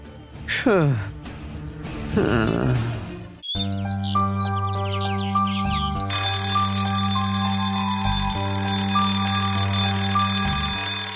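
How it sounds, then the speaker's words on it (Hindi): An alarm clock rings in a Hindi-dubbed action thriller scene, a loud, continuous electronic bell-like tone that starts abruptly after a few seconds of gasping vocal sounds and keeps going. "कम से कम अलार्म तो बंद कर दे"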